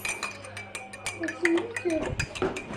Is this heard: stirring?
yes